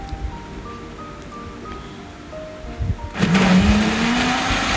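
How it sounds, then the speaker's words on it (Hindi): A kitchen blender churning frozen mango pulp starts abruptly after a few quiet seconds, its motor whirring loud and close with a pitch that climbs steadily as the blades spin up. "तो इसको थोड़ा सा पीसीज में काट के तो इसको हम ब्लेंडर में डाल देंगे और इसको अच्छी तरह से ब्लेंड कर लेंगे।"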